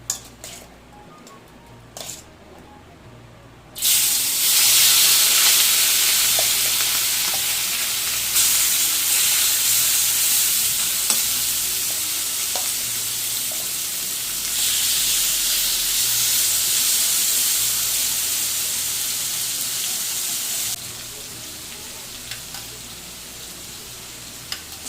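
Prawns frying in hot oil with turmeric and salt, a loud steady sizzle and hiss that bursts in after a few quiet seconds and continues for about twenty seconds, close up with small stirring clicks and no voices.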